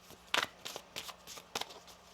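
Tarot cards being shuffled by hand, about six quick riffling bursts in an uneven rhythm, close and crisp against a quiet background.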